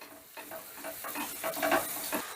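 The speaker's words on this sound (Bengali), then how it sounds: "এবার রসুনটা সামান্য একটু নাড়াচাড়া করে নেব" Garlic stirred and fried in butter over low heat, a soft continuous sizzle broken by a few scraping stirs of a spoon in the pan, close and fairly quiet.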